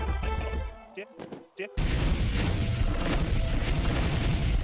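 Siege weapons fire in a real-time strategy battle, a deep booming impact followed by a dense, sustained roar of rumbling blasts and crashes, with faint voices early on.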